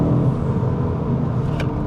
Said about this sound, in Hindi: और कैबिन में उसके बूस्ट की वो विसल भी आती है।